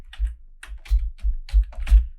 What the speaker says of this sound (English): So let's start typing the code, typing the program.